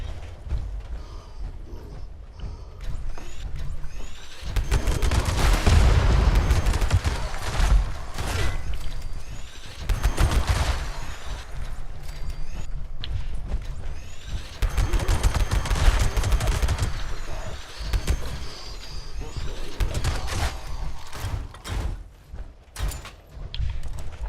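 Pepper Shaker gun in Fallout 76 firing in long rapid bursts, dense rattling gunfire that swells and fades in waves with brief pauses between volleys, close and loud.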